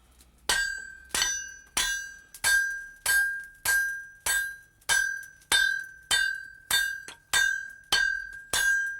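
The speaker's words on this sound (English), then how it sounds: "Just hold it flat against the anvil. Yeah. And hit with the hammer." A hammer strikes a metal blade held flat on an anvil in thirteen evenly spaced, ringing clinks, each blow leaving a bright metallic tone that decays before the next, close and clear with no talking.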